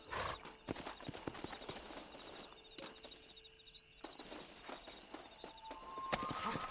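Horse hooves clip-clop in Red Dead Redemption, a steady run of close, crisp hoofbeats with a few louder strikes, plus faint ambient game sound and no speech.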